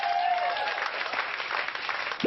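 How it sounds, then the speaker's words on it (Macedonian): Canned applause sound effect played for Rosie in a Garfield program, a short, steady burst of clapping at moderate level, with a brief tone at the start. "еве еден аплауз за тебе"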